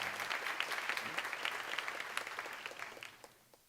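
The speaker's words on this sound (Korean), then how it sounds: "빨리 박수 한번 주세요." A church congregation at a Korean seminar sermon breaks into sustained applause, a steady wash of many clapping hands that fades out near the end.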